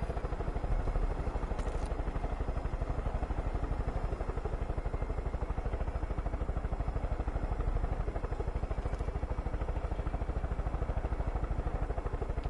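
Helicopter in Far Cry 5: a steady, rapid rotor chop that stays at constant loudness across the whole span, close and unbroken.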